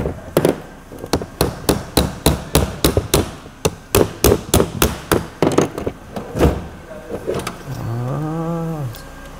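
Hammer strikes on a car with a seized rear brake, a long run of loud, close, sharp metallic blows in a fairly steady rhythm, followed by a short rising whine of a power tool or motor at the end.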